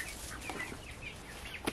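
Young hens kept in a greenhouse next to older hens make soft, scattered clucks and short chirping calls at moderate distance, with one sharper peep near the end.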